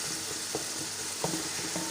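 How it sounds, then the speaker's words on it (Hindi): Soft, steady sizzle of frying in a pan while making Chinese chicken rice, with faint stirring scrapes every so often, low in level and without speech. "इसको हल्का सा फ्राई करेंगे"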